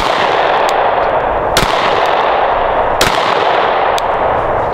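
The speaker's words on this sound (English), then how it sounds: "Let's just take a couple shots here." A Glock 45 pistol fitted with a red dot sight fired at a target, four sharp, loud shots at uneven intervals over steady background noise.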